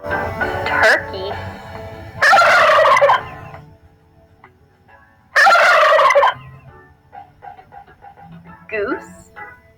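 Two loud bursts of turkey-like gobbling stand out between quieter stretches, likely a person imitating a turkey during a farm animal sounds game, with faint talk and background noise around them.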